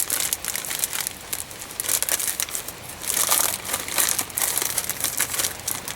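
Clear plastic MRE pouch being torn and crinkled open along the top, close and loud bursts of crackly rustling and crumpling that come in uneven waves for several seconds.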